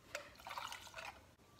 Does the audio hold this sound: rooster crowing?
no